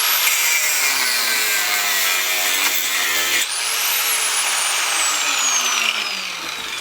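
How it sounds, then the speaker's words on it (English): A hand saw cuts steadily into the threads of a scrap brass fitting held in a vise. The rasping strokes are continuous and close, with one brief break in the middle and a bright metallic ring running over the top. "I try to cut it and get down into the threads"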